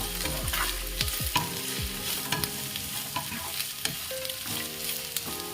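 Sliced onions fry in a pan with a steady, crackling sizzle, punctuated by the scrape and tap of a spatula stirring, close and continuous with no talking.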